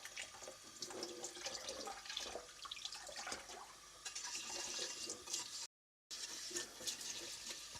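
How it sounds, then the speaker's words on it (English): Tap water runs steadily into a sink for rinsing a cooking utensil before making crepes, a continuous hiss and splash with one short dropout, no talk over it. "Let's give it a proper rinse."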